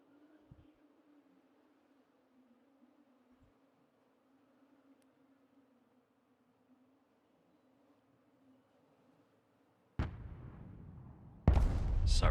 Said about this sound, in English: This is our point barrage